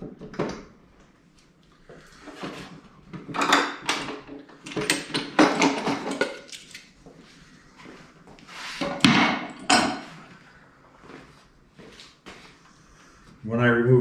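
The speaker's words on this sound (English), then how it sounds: "you can see and hear that the whole thing rocks" A wooden workbench of Matthias Wandel design rocks on the floor, giving several dull wooden knocks and thumps, loud and close, mixed in with someone talking.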